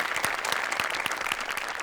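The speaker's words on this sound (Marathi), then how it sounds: "अमोलसाठी एकदा जोरदार टाळ्या व्हायला पाहिजे" Loud, dense applause from a Marathi stage-show audience, many hands clapping together in a continuous close wash with a few sharper claps standing out.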